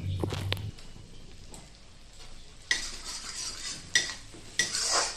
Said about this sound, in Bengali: পাউডারটা আমি দিয়ে দিয়েছি, এবার সুন্দরভাবে এখন নাড়াতে থাকি